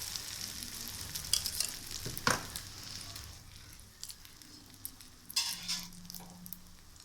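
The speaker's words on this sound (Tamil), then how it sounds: "இப்போ நம்ம அடிச்சு வச்சு பீட் பண்ண அந்த குடமிளகா முட்டையை ஆம்லேட்டுக்கு ஊற்ற போகிறோம்" A beaten egg and capsicum omelette hitting hot oil on a dosa pan makes a soft, close sizzle with a few sharp clinks and scrapes. No one speaks.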